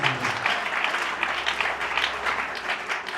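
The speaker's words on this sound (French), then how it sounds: "Applaudissons très fort la parole." A church congregation claps loudly and continuously, a dense, even wash of applause filling the room with little talk.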